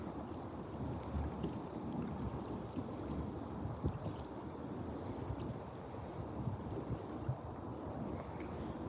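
Steady wind gusting over the open water around a small fishing boat on a cloudy day, a dense, continuous rushing buffet on the microphone with no voices.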